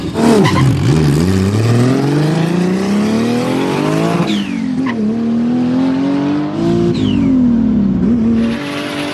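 A loud car engine revs up through rising pitch sweeps, drops back and climbs again, with some tire noise, close and continuous throughout.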